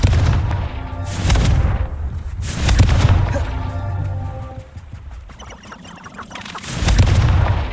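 Confringo blasting spells in Hogwarts Legacy go off as a series of heavy booming explosions, several loud bursts with rumbling tails and crackle between them, close and forceful.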